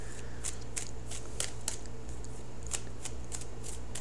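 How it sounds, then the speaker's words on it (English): Close, crisp riffling of tarot cards being shuffled, with quick flicking snaps in an uneven rhythm. "So I'm going to shuffle for this outcome card"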